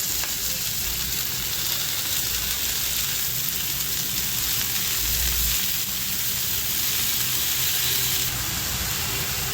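Chickpea leaves tipped into a hot tava over a tempering of crushed garlic and chilli, giving a loud, steady, even sizzle with no voices throughout.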